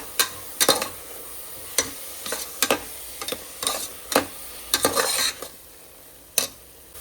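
Masala fries in oil in a pan as ground-spice water is added, with irregular scraping and clattering stirs over a soft sizzle, close and fairly loud.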